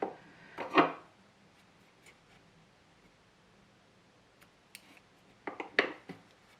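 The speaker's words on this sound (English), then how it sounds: "and now I'm going to cut the rest of my tail." Scissors snip the yarn tail on a crocheted amigurumi star ornament, giving a few close, brief cuts, one near the start and a cluster toward the end, separated by quiet.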